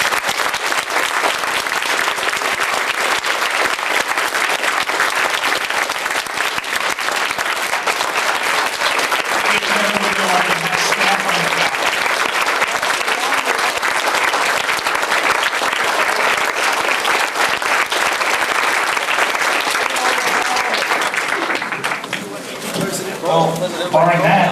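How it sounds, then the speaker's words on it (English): Long, thick wall of convention audience applause at a BotCon 2002 panel, loud and continuous for over twenty seconds before thinning out as voices come through at the close. "it's very important for everyone every year to always give them that thank you and that round of applause"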